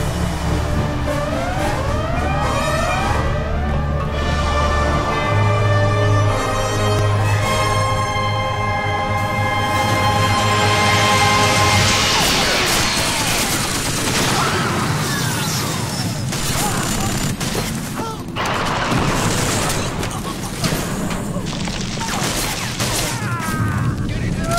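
Sustained gunfire and crashing explosions from the PS2 shooter Killzone, a dense continuous barrage that grows louder and busier partway through, set over a low rumbling score.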